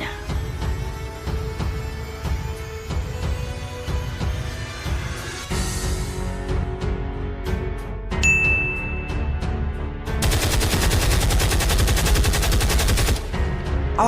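Sustained gunfire in a staged battle in Surabaya rattles on, single shots and rapid machine-gun bursts mixing with metallic pings, loud and dense like an ongoing battle.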